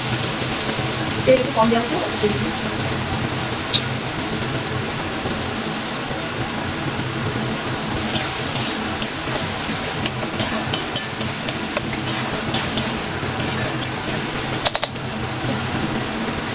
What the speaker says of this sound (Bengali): পেঁয়াজটা ভাজা হচ্ছে, পেঁয়াজটা একটু লালচে লালচে একটু ভাজা হয়ে যাবে।